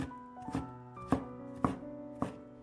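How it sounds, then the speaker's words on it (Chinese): A knife chops squeezed, shredded radish on a cutting board in four evenly spaced, solid thunks, close and clear over soft background music. "挤好的萝卜丝放在案板上，用刀给切碎"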